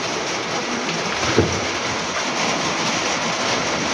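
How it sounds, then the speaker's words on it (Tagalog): Steady broadband hiss of rain falling, an even continuous wash with a brief soft knock partway through and no voices. "Umuulan, kitang-kita nyo naman."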